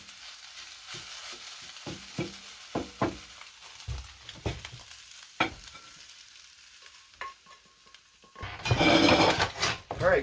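Scrambled eggs and cheese cook on a wood stove in a converted school bus, with scattered scraping and stirring knocks over a soft sizzle, ending in a louder burst of frying hiss near the close.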